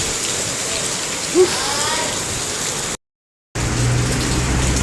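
Heavy rain pours steadily with a constant wash of noise, a brief thump partway through, and a short dropout before the downpour resumes.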